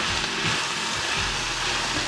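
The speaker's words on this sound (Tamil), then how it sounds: "ஓகே, இதை வதக்குவோம்." Roasted peanuts and coriander sauté in a hot pan for peanut chutney, a steady, dense sizzle that holds at an even level throughout, close up and with no talking.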